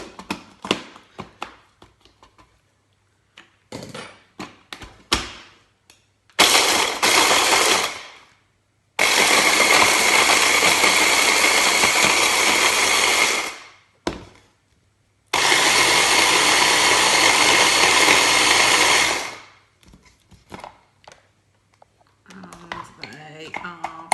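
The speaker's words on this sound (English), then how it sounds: "So I will now just whisk these up." Cheesecake base biscuits whisked into crumbs with an electric hand mixer or blender, running in three loud, steady whirring bursts of a few seconds each, separated by short pauses and light clattering and handling noises.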